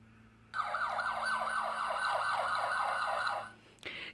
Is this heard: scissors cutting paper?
no